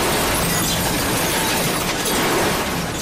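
Glass shattering as a robber plows straight through a liquor store's glass, a loud, dense crash of breaking shards filling the whole stretch with sustained crunching debris.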